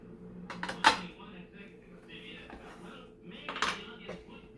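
Two tablespoons of butter dropped into a saucepan, with a sharp metallic clank near one second and further pan and utensil knocks later, close and fairly loud against a quiet kitchen.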